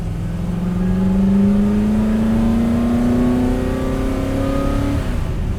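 A Superformance Ford GT40 MKII accelerates hard, its loud engine note climbing steadily through a gear for several seconds before easing off, heard from inside the car with no talking.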